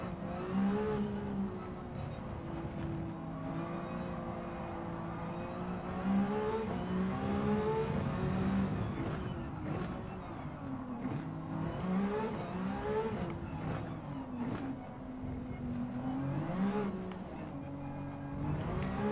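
A racing game car engine with automatic gears revs up and down in repeated waves as the car shifts and accelerates, a continuous moderately quiet drone with no speech.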